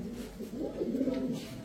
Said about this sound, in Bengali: টাইগার শ্যাডেল একটা মাদি কবুতর।